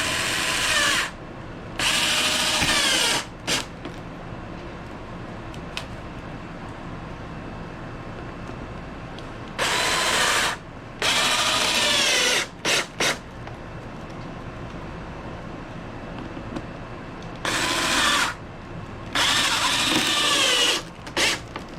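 A power drill drives screws into a wooden beach/pier cooler in several bursts of high whirring, each lasting one to two seconds, separated by quiet pauses with faint clicks.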